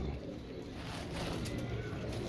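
A fancy breed of domestic pigeon coos softly among a loft of birds, the low murmuring calls sitting under a steady hum of background noise, with faint voices nearby.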